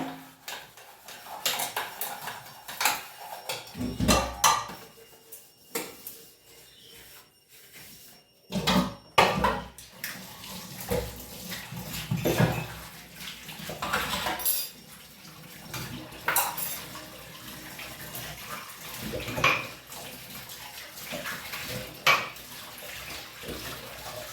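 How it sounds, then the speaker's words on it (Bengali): An old tea-making pot, cups and dishes are scrubbed and rinsed under running water, with repeated clinks and clatters of crockery and cutlery over a steady splashing stream, close and alone. "তো চলো আমি এগুলো একবার ধুয়ে টুয়ে নিয়ে তারপরে আসছি"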